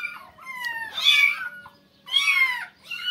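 A kitten being bathed gives loud, close, drawn-out plaintive meows, three in a row with short pauses, and no other sound around them.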